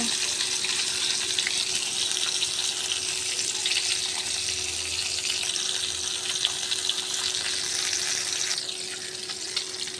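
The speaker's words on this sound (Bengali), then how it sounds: "মাছ ভাজা হচ্ছে" Fish frying in a pan in a home kitchen, a steady loud broadband sizzle with a watery, hissing texture running continuously and evenly throughout, with no talking over it.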